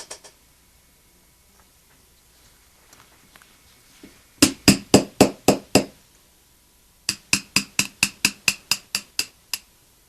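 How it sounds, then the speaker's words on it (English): Crisp, evenly spaced hammer taps drive a pin out of a Ruger 10/22 bolt to free the firing pin. A run of about six sharp metallic strikes comes first, then after a short pause a longer run of about ten, all close and clear. "So you drive out the pin and take out the firing pin"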